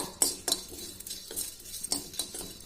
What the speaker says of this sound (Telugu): నేనైతే బొంగులు కూడా కొంచెం వేయించుకుంటున్నాను అనమాట